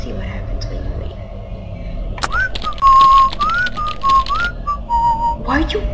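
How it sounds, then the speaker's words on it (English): Someone whistles a wavering melodic tune of several rising and falling notes, fairly close and clear, over a quiet room background with a few clicks. "Why are you whistling?"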